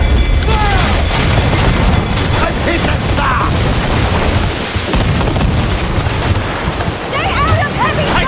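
Naval cannon broadsides from a sailing ship in Assassin's Creed IV Black Flag, deep booms rolling under constant ocean surf and wind, with crew voices shouting over the battle.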